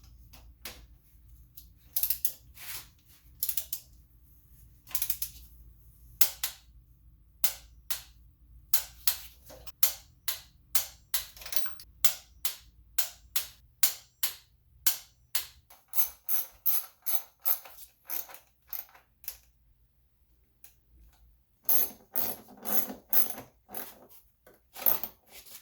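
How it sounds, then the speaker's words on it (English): Torque wrench tightening spark plugs on a 2007-2012 Nissan to 14 foot-pounds, a long series of sharp ratcheting clicks and clacks, close and fairly loud, coming in quick bursts with short pauses and no talking. "now we're ready to torque them all down"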